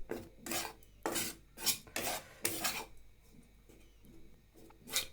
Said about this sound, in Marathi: त्यासाठी थोडं थोडं करून पीठ भाजून घ्यावे पिठाचा असा रंग येईपर्यंत भाजावे